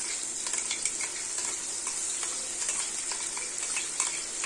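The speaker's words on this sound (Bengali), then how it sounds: "বাটা মশলা সব" Ground spice paste of garlic, ginger, green chillies and dried chillies fries in a pan for prawn curry, giving a steady close sizzle with faint scraping from stirring throughout.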